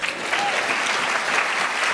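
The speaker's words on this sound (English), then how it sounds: "Big round of applause here." A crowd claps steadily for a couple of seconds, a dense, even burst of applause.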